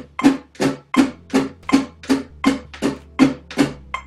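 Acoustic-style guitar strumming in a steady rhythm, about ten evenly spaced strokes over four seconds with down strums on the beat and lighter up strums between, close and clear with no talking.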